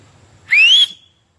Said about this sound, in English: She hear that whistle.